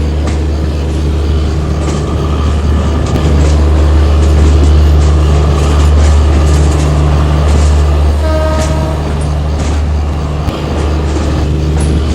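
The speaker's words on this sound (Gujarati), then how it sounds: "ટ્રેન 10 નંબરના સ્ટોપેજ ઉપર આવી ગઈ છે વાંકાનેર રેલવે સ્ટેશન ઉપર" An Intercity SF Express train rumbles into Wankaner Junction, a loud, steady low roar of wheels and carriages with occasional squeals and clanks throughout.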